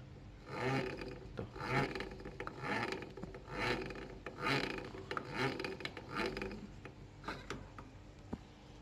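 A new clutch housing for a Yamaha Vega ZR motorcycle is spun by hand up close, giving repeated raspy, whirring mechanical bursts in an uneven rhythm with no talking.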